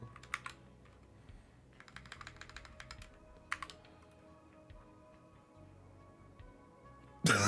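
Bursts of typing on a computer keyboard, quick clusters of light clicks separated by pauses, close and fairly soft, with a brief loud noise at the very end.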